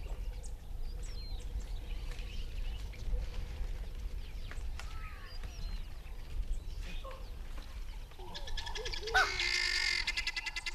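A helmeted guinea fowl gives harsh, rattling calls amid chirps and croaks of other birds and frogs in the Tanzanian bush near Kilimanjaro and Arusha, ending in a loud burst of rapid chattering.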